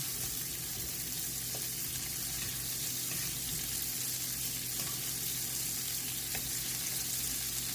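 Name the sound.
shrimp frying in a pan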